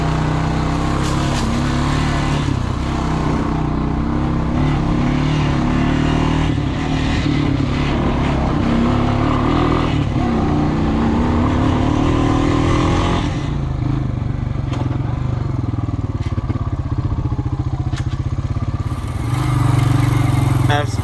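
Honda Rancher 350 ES ATV engine running continuously through mud, a loud, close, droning motor that rises and dips with throttle, with people talking over it.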